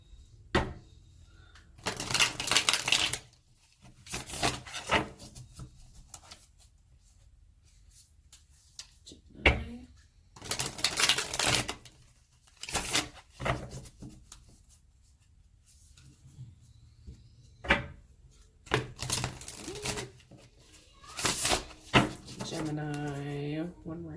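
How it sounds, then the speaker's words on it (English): Tarot cards being shuffled during a reading, short papery riffling bursts repeating every few seconds, close and crisp, with a person talking between them. "One more shuffle."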